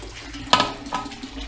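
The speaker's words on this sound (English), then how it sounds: "I'm just working the hose around in there." Water from a hose splashes and sloshes inside distilling equipment during cleaning, with short soft bursts of spray and gurgle against a faint running-water background.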